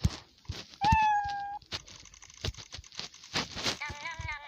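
A cat meows loudly and close by, one long drawn-out meow followed after a pause by a shorter one, amid indoor household clatter.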